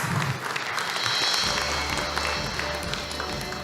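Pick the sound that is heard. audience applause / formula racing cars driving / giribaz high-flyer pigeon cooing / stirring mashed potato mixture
audience applause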